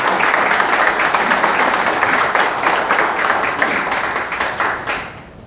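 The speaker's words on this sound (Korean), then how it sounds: "큰 박수 부탁드리겠습니다." An audience at a Korean church press conference and joint worship gathering claps loudly and steadily, the applause holding for several seconds before tapering off at the end.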